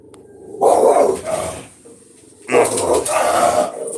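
Dogs barking loudly nearby in two bursts, the first sharp and growly, a brief lull, then a second run of barks and yips.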